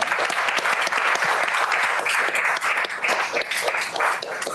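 Audience at a law symposium on investment crowdfunding gives a sustained round of applause for the speakers, dense clapping close and loud throughout with no pause.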